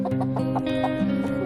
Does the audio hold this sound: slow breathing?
no